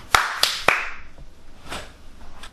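A person imitates loud clapping in a theater with three sharp, evenly spaced hand claps close by, followed by softer trailing noises and a quiet pause.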